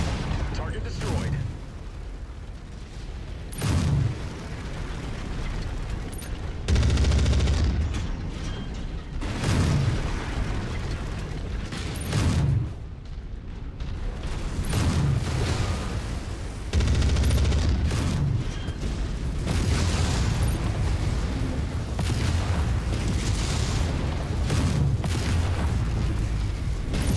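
An enemy base being destroyed in the MechWarrior mercenary campaign game, with repeated heavy booming blasts every few seconds over a continuous loud mechanical rumble, giving a dense battle din in the game.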